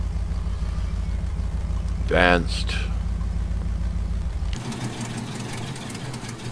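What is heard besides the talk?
truck engine idling in video game Spintires Mudrunner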